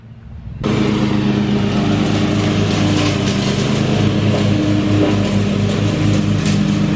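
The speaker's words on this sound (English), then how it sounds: "This is his old lawnmower." A lawn mower engine starts up and keeps running loud and steady nearby, a rough continuous drone with no voices.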